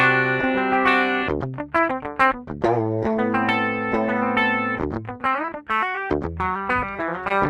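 Dry, unprocessed electric guitar direct-input signal from a Bare Knuckle Nail Bomb pickup on used, not-new strings, playing a fast busy run of picked notes and chords, loud and alone with no talk.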